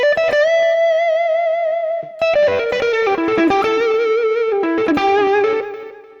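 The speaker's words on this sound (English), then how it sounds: "Nice bit of delay and reverb and stuff on that one." Electric guitar through a Sonicake Pocket Master playing a sustained note, then a run of notes, washed in delay and reverb with trailing echoes and a fading tail.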